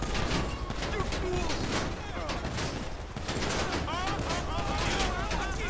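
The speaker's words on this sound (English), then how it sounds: "This guy shot me." Dense, continuous gunfire from GTA 5 Online, a loud unbroken barrage of shots for the whole stretch, with voices talking over it.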